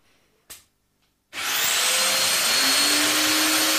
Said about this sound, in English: Drill the first two holes as before.